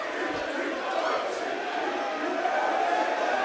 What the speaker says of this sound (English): But the crowd are chanting EURFC